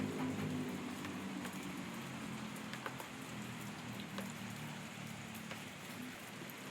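Steady rain falls on a surface outdoors, a faint, even hiss with scattered drop taps throughout and no talking.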